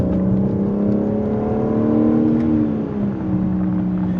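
A 2024 BMW M4 Competition coupe driven in manual mode on back roads, its engine droning loudly from inside the cabin with rising and falling pitch as it pulls through the gears.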